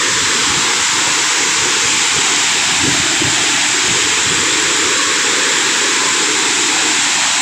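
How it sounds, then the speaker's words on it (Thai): Khun Korn waterfall, a single-tier forest waterfall in Chiang Rai, with people nearby; a loud, steady broadband roar of falling water fills the whole stretch without letup. "นี่คือน้ำตกขุนกรนะครับ"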